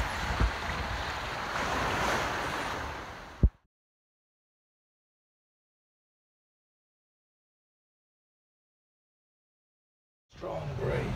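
Wind and waves around a Wharram Tiki 38 catamaran under sail, a loud broadband rush of wind noise and water that cuts to silence partway through and then returns.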